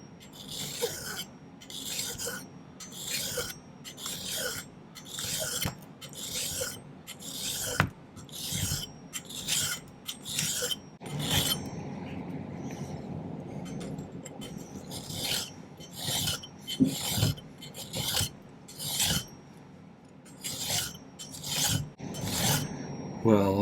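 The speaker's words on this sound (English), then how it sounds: "probably going to do a little smoothing with the file too up front." Metal file smoothing a silver and copper cuff, a series of close, sharp rasping strokes in irregular bursts with short pauses, plus a longer continuous rub near the middle; no talking.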